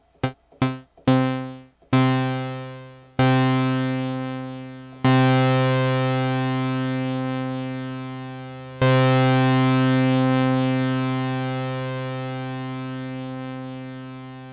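Notes on a Moog Prodigy synthesizer, several short plucked notes followed by longer ones with a long decay and release, each tone sustaining and slowly fading, close and clean with no talking.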